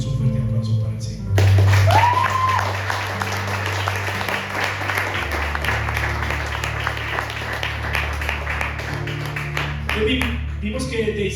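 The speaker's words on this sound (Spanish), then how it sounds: "levantemos un fuerte aplauso para el Señor" Church congregation applauding during a Spanish-language sermon, sustained loud clapping over a steady low organ-like hum and music, with a brief voice at the start before the applause swells and holds to the end.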